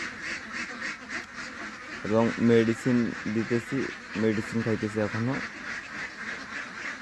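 Khaki Campbell ducks raised for eggs on a small farm quack in rapid clustered bursts midway through, heard close behind someone speaking over them.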